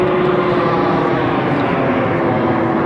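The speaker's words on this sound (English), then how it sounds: "That is one hell of a plane." A very low-flying airplane over a harbour gives a loud, steady, broad engine roar that stays constant throughout.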